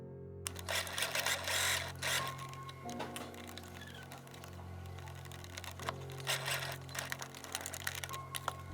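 A sewing machine stitches a winter coat in bursts of fast mechanical ticking and whirring, steady and close, stopping and restarting between runs.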